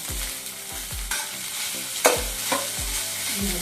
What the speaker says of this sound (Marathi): आता आलं लसूण तळून झालं